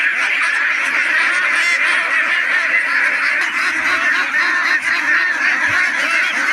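A loud, dense chorus of many hungry farm ducks quacking and honking together nonstop, close by and filling the whole scene.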